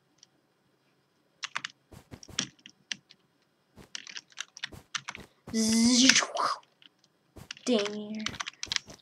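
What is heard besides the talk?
typing on a computer keyboard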